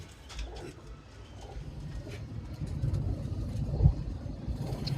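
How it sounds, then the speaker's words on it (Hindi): A pigeon coos softly and repeatedly nearby, with low traffic rumble and a passing car in the background. "ये हमारा गोल्डन कबूतर है।"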